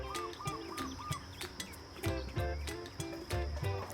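A parrot kept outdoors in Hawaii gives a string of short, repeated chirps and squawks, fairly close and steady in rhythm, with background noise and some louder knocks and rustles in the second half.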